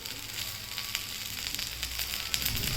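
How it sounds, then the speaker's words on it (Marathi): Moringa leaves are sautéed in a pan with roasted dal and spices, giving a soft, continuous hiss of light frying with faint crackles throughout. "शेवग्याच्या पाल्याला चांगलं परतून घ्यायचं"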